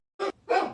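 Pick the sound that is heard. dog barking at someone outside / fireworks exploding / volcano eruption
dog barking at someone outside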